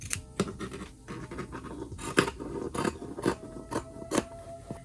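Scissors snip through a scrap of bat-print fabric for a Halloween doll craft, giving a series of close, crisp cuts at an irregular pace with faint scraping between them.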